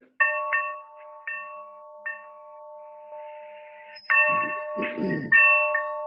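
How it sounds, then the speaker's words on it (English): A meeting bell rings in a series of clear, resonant tones with sustained ringing decays, first in a quick cluster and then spaced strikes, before voices begin talking over the later rings. "I'm going to share my screen and get the bell going."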